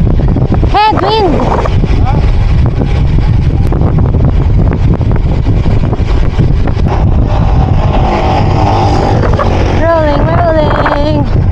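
Loud, steady wind roars across the microphone throughout as a cyclist rides into a strong headwind, with brief voices breaking through near the start and again toward the end.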